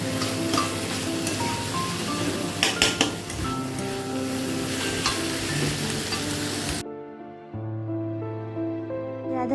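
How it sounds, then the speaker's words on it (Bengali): Bhog offering food sautéed with ghee in a pan, a dense, loud sizzle with stirring scrapes and light utensil clinks that cuts off abruptly near the end, giving way to tonal music. "ভগবানের পাক অলমোস্ট রেডি হালকা একটু কষিয়ে একটুখানি এর মধ্যে ঘি দিয়ে নামিয়ে দেব"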